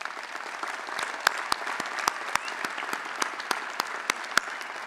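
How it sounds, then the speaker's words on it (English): Graduates at a university spring commencement ceremony clap for themselves. Diffuse applause fills a large space, with sharp, distinct claps from nearby hands standing out irregularly above the crowd. "So give yourselves another round of applause."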